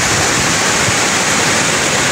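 A dense, unbroken roar of falling water from Tamaraw Falls in Oriental Mindoro, loud and close, with no other sounds.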